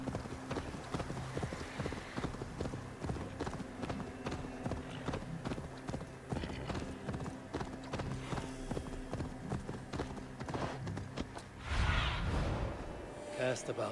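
Horse hooves clip-clop in a steady, quick rhythm as a rider travels across open land in Assassin's Creed Valhalla, with a whoosh and a louder burst near the end and a voice talking over it.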